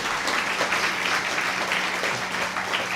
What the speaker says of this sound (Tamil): நல்ல ஒரு கைத்தட்டு கொடுங்க.